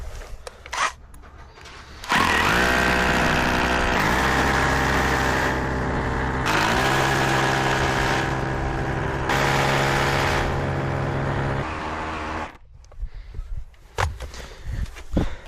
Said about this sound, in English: I'm gonna drill my holes